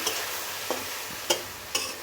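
Spice masala with chickpeas fries in a pan with a little water, making a dense, steady sizzle marked by a few sharp scrapes or taps of stirring.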